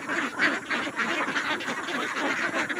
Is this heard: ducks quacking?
yes